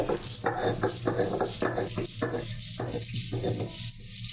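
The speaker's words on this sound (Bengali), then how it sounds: "ডালগুলা পাটায় বেটে নিচ্ছি" Soaked lentils and gandhabhadal leaves ground by hand on a stone shil-pata: steady, rhythmic scraping strokes, close and continuous, with no talking.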